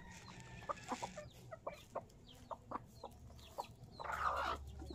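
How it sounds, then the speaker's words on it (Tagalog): A hen clucks in short, repeated bursts with a few sharper squawks, fairly faint and a little distant over a quiet farmyard background, with a rougher, louder fowl call near the end. "Ito na yung isang inahin. Padating na."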